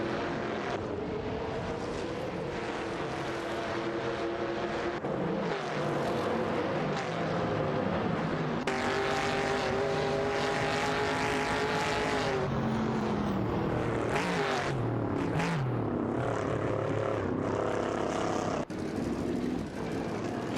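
Race cars battle on track in a racing video game, a Dodge Charger among them, with engine notes whining and shifting in pitch as they climb and drop through gears, continuous and fairly loud without any talk.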